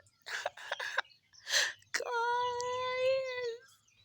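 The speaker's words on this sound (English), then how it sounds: "Then the birds." Birds calling at sunrise in rural Kenya, with a long wavering rooster-like crow sustained for about two seconds after several short bursts of calls.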